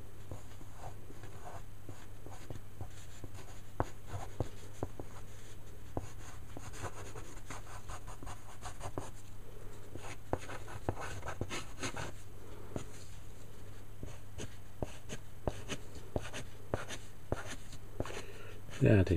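A Derwent pencil scratching across paper in a steady run of small strokes and taps, close and fairly quiet, with a low steady hum underneath throughout.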